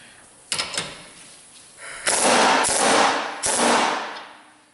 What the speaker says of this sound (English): we'll give it a whack with a hammer.